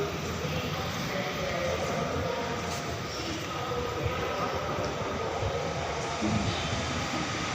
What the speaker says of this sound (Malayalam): മെട്രോ വരുന്നു.